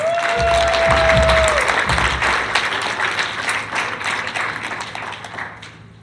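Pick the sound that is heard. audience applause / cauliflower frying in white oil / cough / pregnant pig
audience applause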